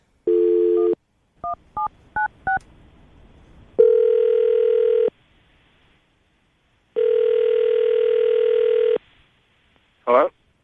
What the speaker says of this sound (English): we're going to call him right now and see if he answers the phone